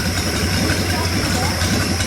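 A boosted engine idles steadily right after its first start, a loud continuous rumble heard up close, with a voice talking over it.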